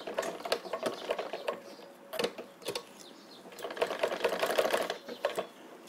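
A sewing machine stitches a leaf-style blouse back neck design in a bursty, irregular rhythm of short mechanical runs and pauses, close and moderately loud, with no talking.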